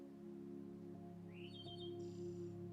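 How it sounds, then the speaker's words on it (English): A songbird, taken to be a robin, gives a few short chirps and whistled notes in the upper register over a steady low hum, moderately faint and fairly close, with no talking. "And then wouldn't you know, some bird song comes along."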